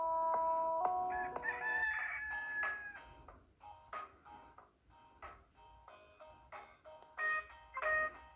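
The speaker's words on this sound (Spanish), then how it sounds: "Le gusta cantar y despertar a todos en la mañana con su kikiriki" A farmyard rooster crows several times in a row, loud and close, with bright drawn-out calls separated by short gaps and no talking over them.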